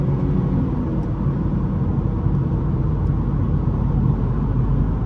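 BMW 440i with a B58 engine speeding on a highway, heard from inside as a constant loud low rumble of engine and road noise without clear pitch changes.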